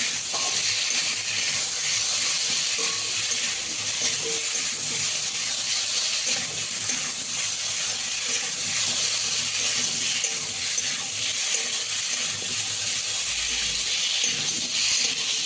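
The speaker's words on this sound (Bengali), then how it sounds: "ভালো করে মশলাটা এবার কষিয়ে নেবো, আলুর সাথে ভেজে নেবো ভালো করে।" Spices fry with potato and kohlrabi in a hot pan, a steady loud hiss and sizzle that runs unbroken and close throughout, with no talk.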